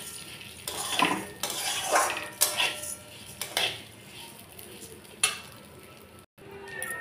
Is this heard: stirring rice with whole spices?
yes